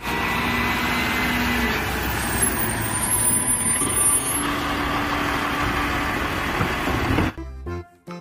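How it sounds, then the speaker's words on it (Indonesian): Garbage truck noise, a steady broad rumble with engine drone and hiss, close and continuous for about seven seconds before cutting away to quieter, broken sounds at the end. "Lihat teman-teman, ada truk pengangkut sampah."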